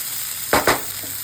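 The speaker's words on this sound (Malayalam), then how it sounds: "നന്നായിട്ട് വഴറ്റി കൊടുക്കാം" Raw banana thoran being sautéed in a pan gives two quick, close sizzling bursts of stirring, then quiet with no voices.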